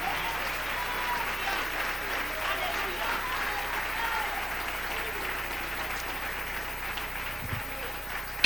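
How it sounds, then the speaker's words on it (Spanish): A church congregation claps steadily for a sermon, a continuous even wash of applause lasting the whole stretch at moderate level without a break. "Dele un aplauso al Rey."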